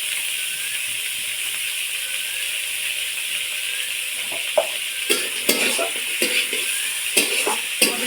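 Chopped onions with a pinch of salt sizzle steadily in a hot pan, a constant frying hiss broken near the end by a few sharp stirring scrapes and clicks.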